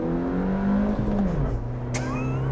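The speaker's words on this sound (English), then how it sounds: "I've got my specialist timing key here, and we're just gonna launch it. Okay, foot on the brake, we're gonna drop the clutch." A Suzuki Jimny launches from a standstill as the clutch drops, its engine revving hard and pitch climbing, then falling with a gear change before rising again, loud and close.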